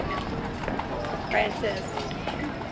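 Horses on a cattle drive in Costa Mesa clip-clop on the ground nearby, their hooves landing in uneven beats while people talk over them.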